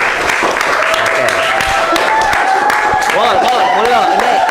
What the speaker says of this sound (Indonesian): Tepuk tangan Nobel, tepuk tangan ini